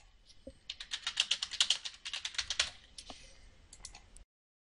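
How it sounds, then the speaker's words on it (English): Search terms are typed on a computer keyboard in a quick run of soft, close key clicks that speed up, then slow to a few scattered taps before stopping. "otherwise you should type your search terms into the search box at the top"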